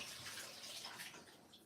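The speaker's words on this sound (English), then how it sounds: "So dip it in the sterilising water." Water sloshes and splashes softly for a moment as a tube is dipped in sterilising solution while brewing mead, a close, brief liquid disturbance with a steady watery hiss.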